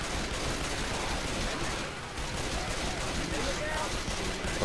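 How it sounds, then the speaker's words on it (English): Gunfire in a Left 4 Dead mod with a Mario theme, a dense, continuous rattle of shots mixed with game noise throughout. "Opening fire."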